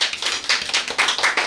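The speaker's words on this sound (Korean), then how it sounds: "박수." Audience clapping at a Korean labor union strike rally lecture, a dense round of many hands in quick irregular claps, steady and fairly loud for the whole moment.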